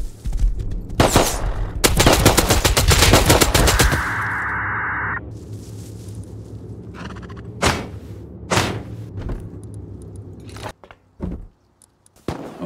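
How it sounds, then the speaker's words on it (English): Bursts of gunfire in the survival game Rust: a dense rapid volley, then scattered single loud shots with quiet gaps between them. "Now those shots are coming from right about over there, but I don't see anybody"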